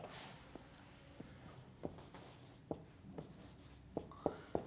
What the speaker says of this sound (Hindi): मैं लिख भी देता हूँ यहाँ पे।